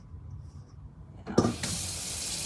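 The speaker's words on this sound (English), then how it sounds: "now I have to wash my hands again" A tap suddenly turns on and runs steadily in a kitchen sink to rinse hands after handling chicken, loud and continuous after a quiet start.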